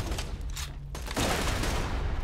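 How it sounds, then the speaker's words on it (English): A grenade tossed and detonating in Borderlands 2: a dense, continuous roar of gunfire and blast noise with a brief lull, then a louder explosive surge that holds to the end. "Just gonna toss a nade out that way."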